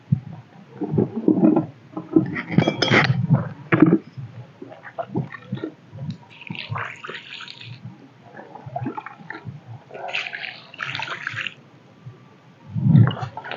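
Water poured into a container to mix metalaxyl pesticide at a cumin field: loud, irregular gurgles, sloshes and splashes, quieter in the middle, ending with a final heavy glug.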